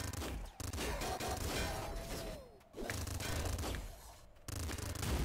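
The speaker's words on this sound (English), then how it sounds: "Hey, hyper rifle." Rapid hyper rifle gunfire in the video game Nuclear Throne, dense bursts of shots running almost continuously with short gaps, loud and busy alongside game effects.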